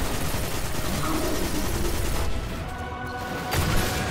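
Hand cannon fire in the Destiny 2 video game blends into dense, loud, continuous battle noise, with sharper shot impacts audible within the roar.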